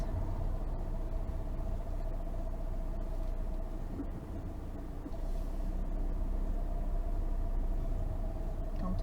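A car in town traffic in La Ciotat during a practice driving test, heard from inside: a steady low engine rumble with a faint tonal hum that stays fairly even throughout as the car eases toward a stop.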